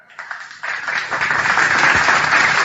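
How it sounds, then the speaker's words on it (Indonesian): Audience applause and clapping for a performer at a live Indonesian stage show, starting sparse and quickly swelling into steady, dense clapping that fills the room. "Tepuk tangan buat teman kita."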